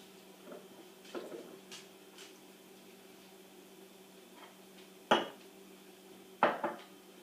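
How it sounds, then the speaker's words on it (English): Cereal and milk being readied in a bowl with a spoon: a few soft clinks early on, then two sharper, louder clatters of spoon against bowl, with quiet room hum between. "I'll go ahead and get this cereal and milk ready for you"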